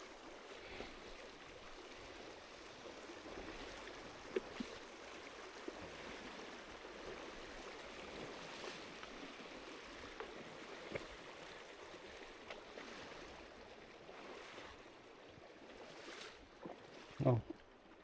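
A river at Piercebridge runs over paving slabs laid across it, giving a steady, soft rushing wash, with faint knocks and a sharper clatter near the end.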